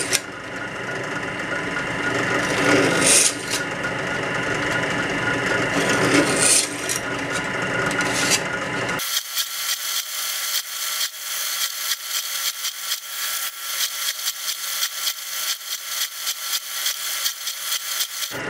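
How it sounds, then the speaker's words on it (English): Step drill cleaning up a drilled hole in metal, a steady grinding rasp that runs continuously for the whole stretch, loud and close, with a sharp drop in low-end body partway through as the cut lightens. "use the step drill to clean up the hole"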